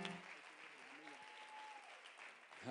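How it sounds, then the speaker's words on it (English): A church congregation claps hands together in a dense, continuous round of applause, while a voice carries over it briefly. "would you clap your hands to the Lord?"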